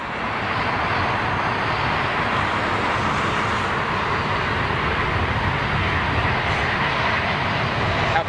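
A jet airliner with short takeoff and landing capability roars down the runway on takeoff. A loud, steady, broadband engine rush fills the whole stretch, heard from a distance without any talk.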